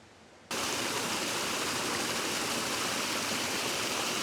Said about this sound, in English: That is an impressive amount of water coming down.